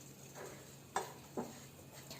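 A spoon stirring a milk powder and butter mixture in a pan, soft, quiet scraping and faint sizzle, with two sharper clinks against the pan along the way.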